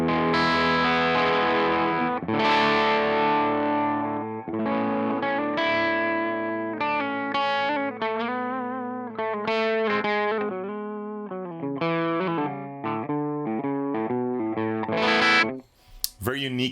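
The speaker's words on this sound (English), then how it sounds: "Very unique sounding amp." A distorted electric guitar plays sustained chords and melodic runs with a crunchy amp tone and chorus shimmer, loud and upfront.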